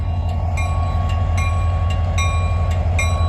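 Two trains pass each other in Abbeville, giving a steady, loud rumble of rolling rail cars with regular clicking wheel beats over the track, heard close by and with no talk.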